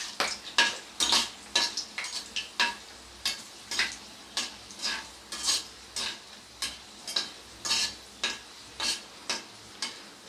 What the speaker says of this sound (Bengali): এবারে প্রথমে ফোড়নটাকে একটু নেড়ে চেড়ে হালকা ভেজে নেব